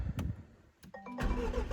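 A Jaguar F-Type sports car engine starts up: a short crank gives way to a sudden loud, full roar that carries on steadily at close range.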